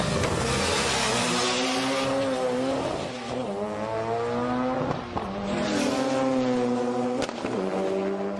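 A Nissan R32 Skyline GTS-T with a stroked 2.4-litre RB20 engine and modified T04R turbo screams loud and close as it revs hard through the gears at a drag race, pitch climbing and dropping with each shift, turbo whine and roaring exhaust throughout.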